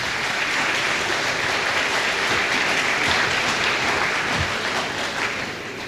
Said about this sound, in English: I appreciate any time you prepare to burst into spontaneous applause.